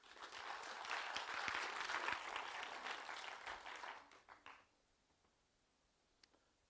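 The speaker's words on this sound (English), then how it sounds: "let's give him a round of applause" A live audience applauds a speaker coming up to present, a full round of clapping that holds for about four seconds, then tapers off into near silence with one faint late clap.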